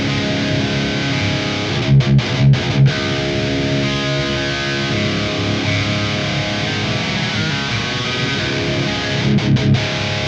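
Sustained distorted chords from an ESP LTD SC-20 electric guitar through an Axe-Fx III stereo effect ring out with a wide, swirling processed tone, steady and loud, with a few sharp strummed breaks.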